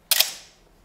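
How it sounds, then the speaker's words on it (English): A single sharp, crisp snap of a horizontal cloth focal-plane shutter on a Canon AE-1 film SLR, loud and close, followed by a short fading ring. "The shutter is a bog standard horizontal cloth plane focal shutter"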